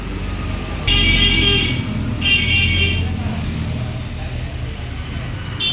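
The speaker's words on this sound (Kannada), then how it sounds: "ಗಾಡಿ ಮುಂದಕ್ಕೆ ಹಾಕ್ಯಾರೆ" A mini truck moving forward onto a wheel alignment machine in a workshop, a loud rumbling engine with low droning noise, two bursts of a shrill horn-like tone and busy surroundings.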